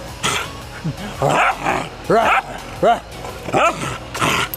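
A dog barks repeatedly in bursts of loud, close yelps and woofs, some rising into whiny tones, with short pauses between barks and a person talking in between.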